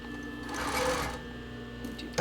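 A sewing machine back stitches the edge of a sports bra, a close, steady mechanical whirr lasting about a second before slowing and stopping, with a voice faintly present.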